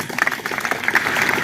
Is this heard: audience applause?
yes